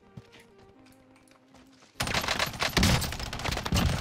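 Gunfire in the Warzone shooter erupts abruptly after a quiet stretch of soft game tones, a loud, rapid automatic burst that keeps rattling through the rest of the moment.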